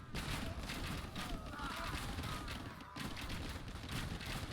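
Age of Empires 2 battle with organ guns and bombard cannons firing: dense, rapid crackling gunfire and booming volleys run continuously, loud and busy, with a brief lull near the end.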